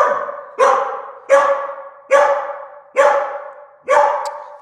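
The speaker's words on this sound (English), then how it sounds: "Dang, some point of view barks for the Mooncat" A dog barks six times in a steady, evenly spaced series, each bark loud, close and sharp with a short fading tail.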